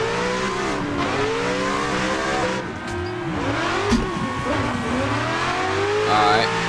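Video-game BMW E36 M3 engine revving hard and rising and falling with throttle while drifting, with bursts of tire squeal, steady and loud throughout.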